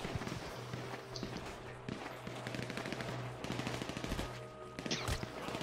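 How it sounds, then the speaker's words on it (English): Machine gun fire rattles in GTA V survival mode in rapid, repeated bursts with sharp individual shots, fairly close, continuing across several seconds with a steady hum and occasional footsteps underneath. "Ow, I'm getting shot."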